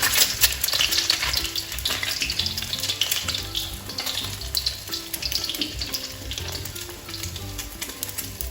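A fried egg made from duck eggs sizzles steadily in a hot pan, a continuous crackling fry with scraping stirs and a running tap in the kitchen, and no one speaking.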